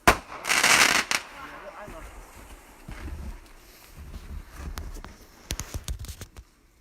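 New Year's fireworks at French River, Ontario, Canada: a loud, crackling burst followed by scattered sharp pops and thuds outdoors, with voices talking in between.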